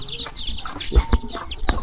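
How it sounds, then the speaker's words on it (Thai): Domestic village chickens cluck in short, uneven bursts, fairly close and clear, against light background noise outdoors in a rural village. "ไก่เนาะไก่เลี้ยงไก่บ้านทุกคน"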